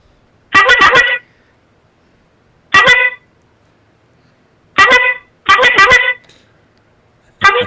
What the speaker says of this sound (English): So he's just honking the horn.